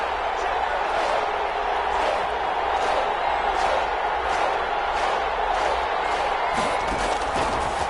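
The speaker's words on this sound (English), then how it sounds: "the crowd getting into it as we come up on a big 3rd down" Big football stadium crowd roaring steadily before a key third down in a Titans game, a dense sustained wall of far-off voices with a few sharper swells near the end.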